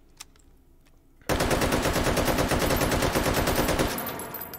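An AKM rifle in the VR game H3VR fires on full auto in one sustained, rapid burst of loud shots. Only faint clicks come before it, and the burst tapers off at the end.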